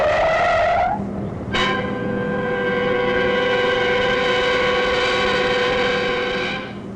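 An old car from around 1957 is driven hard, with a steady high-pitched whine of tires or engine that shifts pitch, breaks off briefly and then holds loud and close for several seconds.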